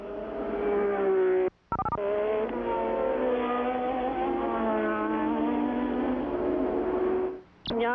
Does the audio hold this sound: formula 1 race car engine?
yes